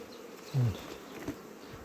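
Honey bees flying around a hive split into two sections, a brief close buzz as one bee passes near, then faint humming against a quiet background.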